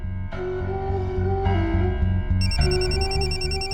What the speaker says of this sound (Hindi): शरद को फोन करके पूछती हूँ।